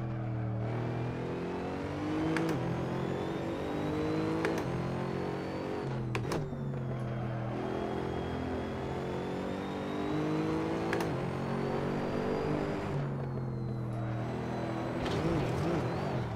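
GT3 race car engine at Laguna Seca in Assetto Corsa, sustained high revs with repeated sharp blips and pitch drops on downshifts, then climbing again, steady and close, no talking.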